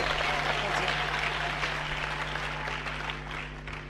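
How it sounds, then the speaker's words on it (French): An audience claps hands at a church sermon, a dense, continuous burst of applause that stays loud and slowly eases off toward the end. "Clap your hands."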